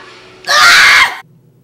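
A single loud, high-pitched scream from a person downstairs bursts out for under a second, close and harsh, then cuts off to quiet room tone.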